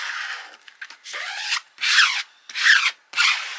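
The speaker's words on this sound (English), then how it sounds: "Right, let's grab a squeegee." A squeegee rubbing firmly across balloon transfer tape in several distinct close strokes, each a loud dry scraping swipe separated by short pauses, with no talking.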